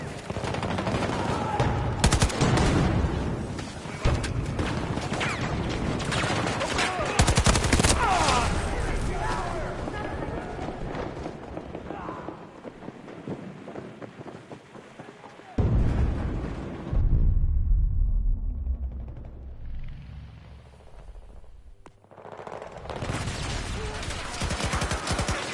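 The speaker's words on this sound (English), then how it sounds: "Throwing grenade!" Bursts of rapid gunfire and explosions from the video game Battlefield 2042 after a grenade throw, loud and sustained, then a sudden drop to near quiet before the firing returns.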